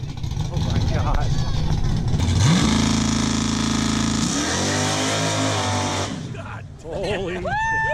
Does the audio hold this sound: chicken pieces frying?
no